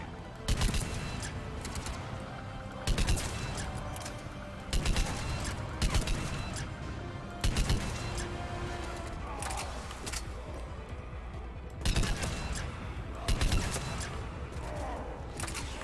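Rifle gunfire in Mass Effect 3: bursts of loud, sharp shots come in regular volleys about every two seconds over battle noise and background music, with a voice speaking between bursts.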